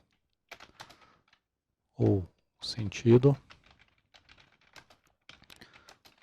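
Someone types a code comment on a computer keyboard while programming an Arduino Uno. Light, scattered keystroke clicks fall around short bursts of speech.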